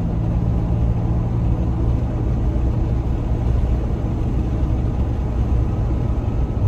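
Toyota Tacoma on aggressive off-road tires driving at about 30 mph along a paved side street with the window down, a steady loud rumble of wind buffeting and road noise.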